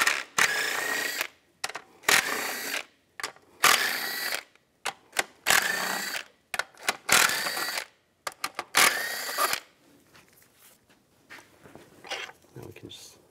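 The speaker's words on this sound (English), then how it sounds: "Using a 13 millimeter socket, take these 6 bolts out from on top of the manifold" Ratcheting and clicking of a 13 mm socket wrench backing six bolts out of the intake manifold on a Cadillac SRX, coming in quick bursts separated by short pauses, with softer taps and rustles toward the end.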